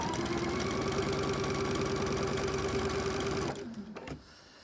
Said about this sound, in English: so I'm going to go ahead and sew past that first one.